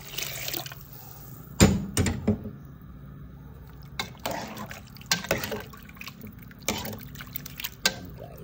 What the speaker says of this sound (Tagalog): Maglagay na po na tayo ng tubig para lumambot ang ating nilulutong lamang loob na baka.